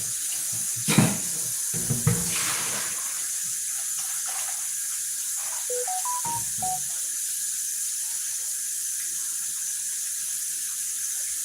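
Water runs steadily from a faucet into a sink while fish are rinsed, a constant close hiss with a couple of louder splashes early on and brief knocks midway.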